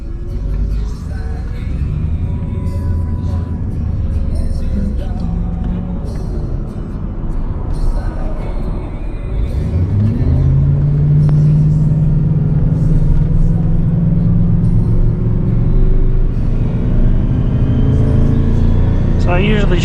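A 24-year-old 8.1-litre gas V8 truck towing a heavy trailer in first gear with tow/haul mode on: loud, steady cabin engine rumble whose low drone rises into a stronger, climbing revving tone partway through.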